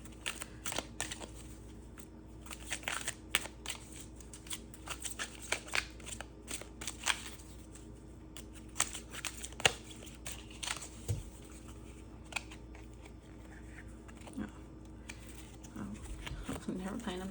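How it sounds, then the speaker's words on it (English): Tarot cards being shuffled and drawn in a pick-a-card reading, with soft repeated riffling and flicking of cards at close range under a person talking almost throughout. "I'm gonna draw an extra card for you."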